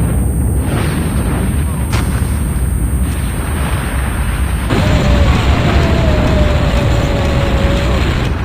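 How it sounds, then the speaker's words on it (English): Call of Duty Mobile match audio: a loud, steady wall of low booming battle noise with a sharp rise in intensity midway, distant rumbling and a faint rising tone, with game voice callouts mixed in. "Friendly nuke has been launched."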